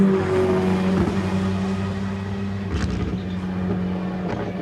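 Four-wheel-drive race car accelerating hard off the line at the Goodwood Festival of Speed, a loud steady engine note with a sharp burst midway as it passes, while commentary continues underneath.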